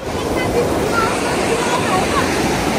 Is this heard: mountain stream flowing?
yes